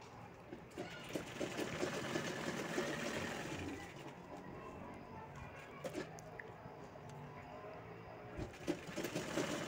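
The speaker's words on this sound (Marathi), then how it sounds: "तर ही झिप लावून आपल्याला त्यावर दाबटीप करून घ्यायची आहे।" A sewing machine runs steadily and close, topstitching a zip onto a fabric organiser, a continuous rapid mechanical whirr with brief stops and clicks.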